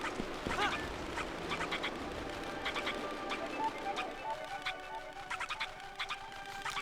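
Chickens cluck in the Zelda Twilight Princess HD video game, a run of short repeated bird calls mid-level over steady background game music, with no talk.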